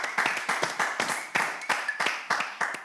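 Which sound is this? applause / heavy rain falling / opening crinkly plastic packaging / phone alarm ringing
applause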